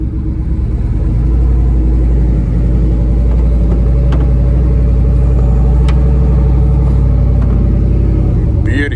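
A turbocharged GMC truck rolls around a parking lot, its steady low engine rumble continuous and close throughout, with a few light clicks over the drone.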